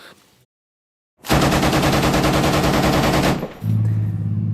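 A Bradley fighting vehicle's 7.62 mm machine gun rips out one loud, rapid burst lasting about two seconds, followed by a steady low mechanical hum.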